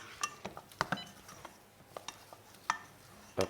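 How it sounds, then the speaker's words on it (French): Choux pastry dough being stirred in a saucepan over heat to dry it out in a French kitchen, with sporadic scrapes, taps and light metallic clinks, close and quiet, with no talking. "on va dessécher, ce qu'on appelle dessécher la pâte à choux"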